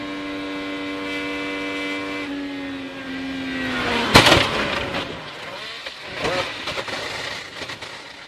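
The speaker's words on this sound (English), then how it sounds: "Some lingering audio there from the skidding noise of just carbon and steel and aluminum dragging" IndyCar race car crashing during the 2022 season, a passing engine tone falling in pitch before a sharp loud impact, followed by scraping, dragging carbon, steel and aluminum debris with lingering skidding noise.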